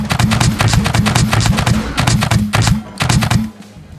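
Rapid bursts of gunfire aimed at tape bots in the survival game Scrap Mechanic, loud and close, in several volleys of quick repeated shots with brief gaps, fading out at the end.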